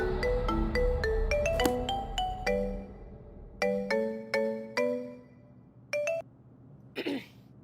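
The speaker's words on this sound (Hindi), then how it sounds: "अरे वाह हसीना मलिक, एक ही रिंग में फोन उठा लिया तूने।" A phone ringtone plays a bright melodic sequence of chiming notes in bursts, pausing between phrases, then a brief cough-like sound follows at the end.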